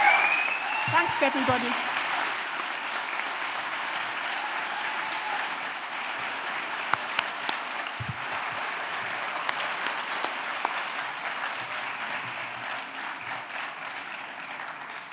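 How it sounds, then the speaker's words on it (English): A graduation ceremony audience for travel, business and hospitality graduates claps in a long, even wash that sounds somewhat distant and thin, with a brief spoken thank-you near the start. "Please give them another huge round of applause."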